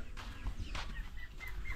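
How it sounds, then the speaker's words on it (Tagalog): Chickens cluck and squawk in short bursts nearby, a few quick calls overlapping against a quiet outdoor background, with ducks also present. "Pato and manok."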